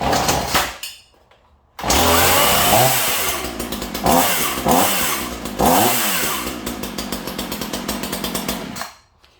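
A petrol chainsaw with a freshly replaced chain starts after a short pull, then runs loud and close at high revs for about seven seconds, its pitch dipping and rising several times before it cuts off.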